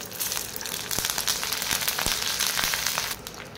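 Curry leaves and other ingredients roasting in oil in a pan for a coconut oil hair preparation, a dense, continuous sizzle and crackle with scattered sharp pops, steady throughout before easing slightly at the end.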